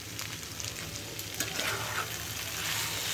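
Pasta is stirred in a pan after a sprinkling of pasta spice, with a steady sizzle and occasional scraping from the stirring utensil, close by and without speech.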